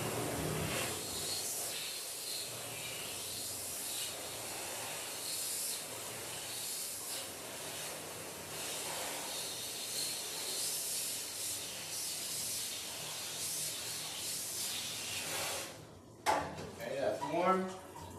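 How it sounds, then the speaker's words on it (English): Warm water sprays steadily from a hose during a Shih Tzu's bath, a continuous broad hiss for most of the time, then breaking into splashing and clattering bursts near the end. "First thing I'm going to do is warm up the water, that way we don't spray him with cold water."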